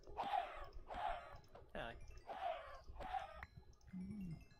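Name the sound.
chickens screaming as they are slaughtered in a video game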